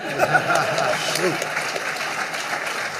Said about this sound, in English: You're supposed to clap for that.